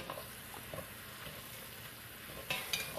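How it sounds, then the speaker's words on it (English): Mushrooms, onions and garlic sauté in a couple tablespoons of butter in a pan, giving a soft, steady sizzle with light stirring scrapes and a few brighter clinks near the end. "So everything is being sauteed in a couple tablespoons of butter, and I'll cook these mushrooms down for probably 3 or 4 minutes."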